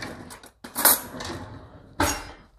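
Metal cutlery rattling and clinking as a fork is pulled from a kitchen utensil drawer, two sharp bursts of jangling close by with no talking.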